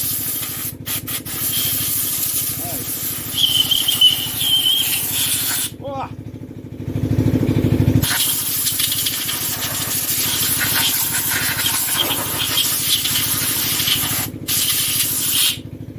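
Compressed air blasts loose diesel and grime off a Lister diesel engine head in a loud, steady hiss close by, broken by short pauses, with some voices in the background.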